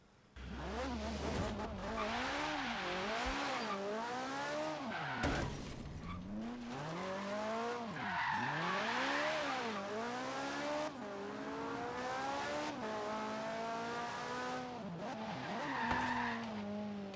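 A race car in a video game locks its tires under braking on asphalt, long wavering squeals sweeping up and down repeatedly over a continuous engine drone, loud and close throughout.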